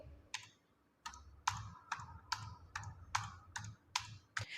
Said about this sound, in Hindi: यहाँ पे मैं सीरियल नंबर टाइप करूंगी